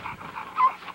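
Tank, a young stud dog at a kennel yard, gives soft whimpering, whiny vocal sounds up close in a single brief burst, with no talking.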